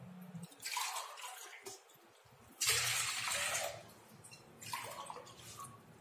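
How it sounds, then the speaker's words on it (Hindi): Water is poured from a glass into a cooking pot (tapeli) for mango panna, in three separate splashing pours with short pauses between them, close by and fairly quiet. "ढाई ग्लास पानी डाला है मैंने।"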